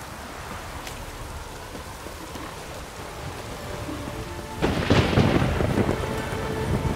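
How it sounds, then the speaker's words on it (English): Steady rain in The Witcher 3: Wild Hunt hisses throughout, with a low rumble of thunder and a louder burst of downpour near the end. "It's raining."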